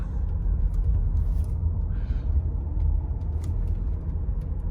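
A Mercedes W210 E430 driving around a neighbourhood, heard from inside as a steady, fairly loud low engine and road rumble that continues throughout, with no talking.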